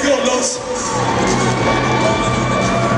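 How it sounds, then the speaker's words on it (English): A packed crowd at a Dallas slam dunk contest claps and cheers continuously, loud and close, with shouts and whoops rising over the dense roar. "Don't stop clapping, don't stop clapping."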